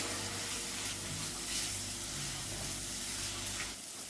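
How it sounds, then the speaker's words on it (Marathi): Ground roasted sesame paste going into a hot pan for a Bhogi mixed vegetable dish, a steady close sizzle and fry throughout with a slight stirring disturbance near the end, no talking. "इथे मी तीळ भाजून वाटून घेतले, ते टाकूया."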